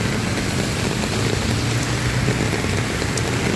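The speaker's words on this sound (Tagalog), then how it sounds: "Ang lakas ng ulan." Heavy rain pours steadily onto the ground and water runs nearby on an outdoor walk during a date, a constant dense wash of noise with no talk.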